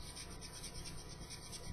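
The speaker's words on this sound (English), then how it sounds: "Just kind of run your sanding stick all the way around" Steady, soft rasping of a sanding stick rubbing around tubing, a continuous scratchy friction sound close by with no pauses.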